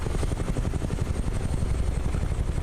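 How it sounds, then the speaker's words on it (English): A Cessna 172 propeller engine in Microsoft Flight Simulator drones steadily, a loud continuous low rumble with a fast pulsing beat, no speech over it. "Let's get the plane in the air."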